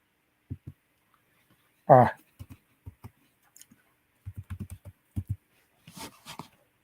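Typing on a computer keyboard during a meeting, heard as scattered, close, crisp key clicks in short irregular bursts, with one brief voiced sound midway and a faint voice near the end.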